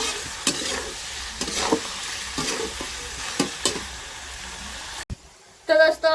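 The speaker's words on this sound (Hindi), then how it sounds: "देखिए दोस्तों भून रहे हैं अभी मसाला वगैरह नहीं डालेंगे" Mutton roasting in a pan for a village-style dry dish, with a constant oily sizzle broken by a series of scraping stirs, then an abrupt cut to near-quiet with a brief clatter at the end.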